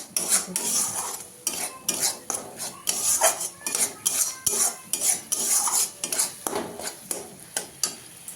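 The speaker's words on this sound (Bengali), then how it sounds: "দেখো তোমরা, ফ্লেমটা হাই করে এটাকে জল শুকানো অবধি" Pumpkin leaf chutney paste frying in a pan over a high flame, with a spatula scraping and clinking against the metal in a quick repeated rhythm under a faint sizzle, close and fairly loud.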